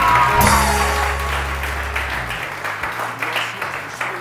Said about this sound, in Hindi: तालियां थोड़ी सी खुल के होनी चाहिए।